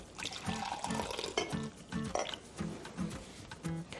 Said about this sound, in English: I pour it into a cup.